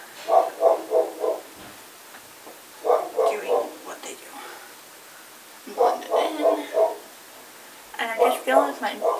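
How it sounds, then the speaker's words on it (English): Several neighbor's dogs barking in four separate bursts of rapid, evenly spaced barks, each burst lasting about a second, heard at a moderate distance from outside with quiet gaps between. "And that would be my neighbor's dogs."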